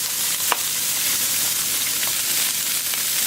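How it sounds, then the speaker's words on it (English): Bacon and onions sizzle on a Camp Chef flat top griddle with a dense, steady hiss. A few faint clicks of a spatula come through, and no one speaks. "Probably flip the bacon,"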